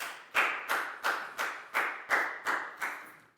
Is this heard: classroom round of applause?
yes